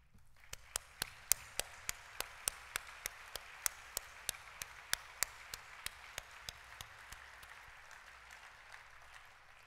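An audience claps for a board of directors standing at a pharmacy education association's opening general session, a steady wave of applause with sharp individual claps ringing out over it for about ten seconds.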